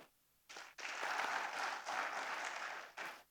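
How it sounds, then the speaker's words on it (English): Audience applause at a team tour recap event in Bangalore, starting faintly then swelling into a dense, steady ovation for nearly three seconds before tapering off. "A big round of applause for her"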